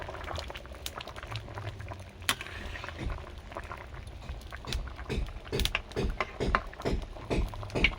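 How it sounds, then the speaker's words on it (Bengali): Bengali chicken kosha gravy simmers in a pot on a home stove, with lively irregular bubbling and popping, close and fairly soft, and no talk. "দেখো ঝোল ফুটছে কত সুন্দর"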